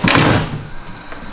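A drawer sliding open or shut in a hotel room in Boracay, Philippines: one brief, fairly loud burst at the start that quickly fades, with no talking.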